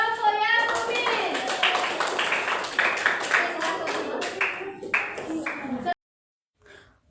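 Applause from an audience for a student group in a classroom peer-teaching session, a few seconds of scattered close hand claps with a voice talking over them, ending abruptly into silence.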